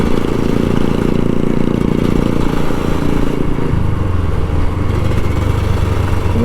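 A Kawasaki Ninja RR 150 two-stroke motorcycle engine runs loud and close, with a continuous buzzing drone and a slight drop in pitch partway through.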